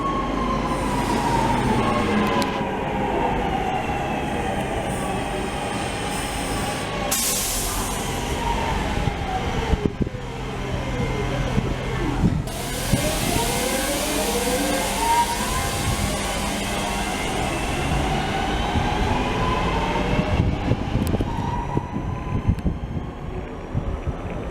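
A Class 323 electric train at Manchester Piccadilly rumbles and hums steadily with rising and falling motor whine and faint wheel squeal, no voices, wind buffeting the microphone.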